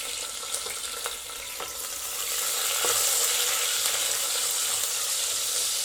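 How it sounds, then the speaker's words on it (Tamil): Onions and green chillies sauté steadily in a pan of hot oil for banana flower biryani, a continuous close sizzle that swells louder partway through, with occasional soft stirring knocks and no talk. "இப்போது வெங்காயம் நல்லா வதங்கட்டும்"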